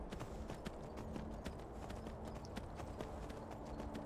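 Horse hooves clip-clop in the video game Skyrim, a quiet, steady stream of hoof beats over a rumbling, noisy background with a faint hum.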